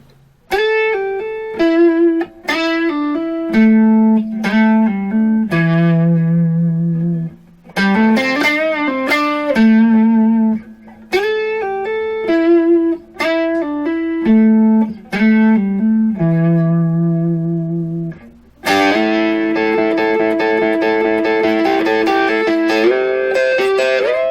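A picked electric guitar riff played on a neck humbucker pickup with a warm, round tone, in short repeated phrases with brief pauses, then a sustained ringing chord at the end.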